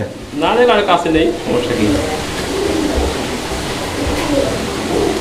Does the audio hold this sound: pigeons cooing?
yes